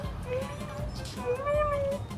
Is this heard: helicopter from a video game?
no